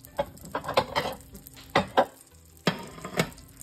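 Thawed bologna frying in a pan for a sandwich, a steady sizzle under repeated clinks and scrapes of a utensil stirring against the pan, with no talking.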